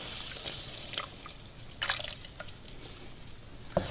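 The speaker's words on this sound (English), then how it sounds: "we're just going to go ahead and add our milk" Milk trickling and splashing into a pot of potato soup in a home kitchen, a few soft irregular drips and pours over a quiet background with no voices.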